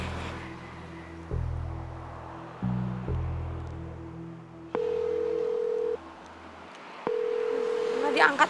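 Telephone tones from a call that goes unanswered: stepped dial and ringback beeps, then two long sustained tones with a gap between, clear and mid-loud.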